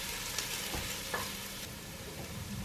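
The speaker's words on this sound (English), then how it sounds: "I'm going to add the garlic, the 2 to 3 cloves here." Two to three cloves of garlic hitting translucent onions in a pan, a steady close sizzle with a few faint stirring scrapes and no talk.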